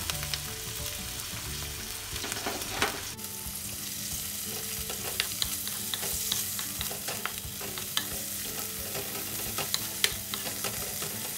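Tuna cooking in a hot pan with oil over wilted aromatics, giving a steady close sizzle with repeated scraping stir strokes throughout and no talking.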